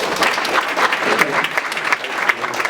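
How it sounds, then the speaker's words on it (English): Audience applause at a business community gathering, a dense, continuous round of clapping from many people, loud and even throughout. "So give them a round of applause."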